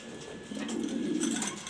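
A pet pigeon gives a low, soft coo lasting about a second against quiet room background.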